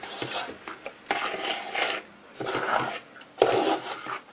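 Nougatine mixture being stirred in a pan, a close series of scraping, rubbing strokes in uneven bursts with short pauses between them.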